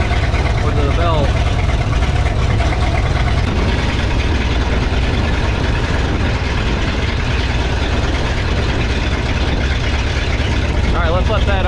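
A Ford F600 truck engine idles loud and close in a steady, continuous low rumble, with talking heard over it.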